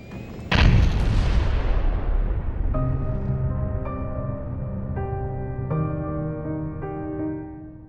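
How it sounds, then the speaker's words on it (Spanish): A Learjet crash explosion in an urban area: a sudden loud boom followed by a long rumbling decay, then sustained tonal ringing with repeated accents. "una gran explosión envolvió el área, incendiando vehículos y dañando edificios cercanos"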